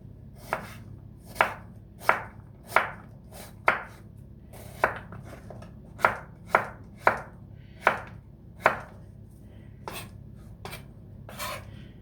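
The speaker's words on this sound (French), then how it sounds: "Donc là maintenant on va couper les oignons en fines tranches, pas trop épaisses quand même." A knife slices onions into thin rounds on a board while making homemade ratatouille, giving about fourteen crisp, evenly spaced chopping strokes, close and clear, with no voices.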